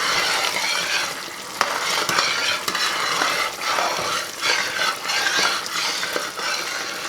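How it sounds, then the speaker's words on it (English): Toasted almond caramel bubbling and sizzling in a pan while being stirred steadily, a dense continuous hiss broken by occasional scraping clicks of the utensil, close and loud with no talking. "I'm going to keep stirring it until it stops bubbling"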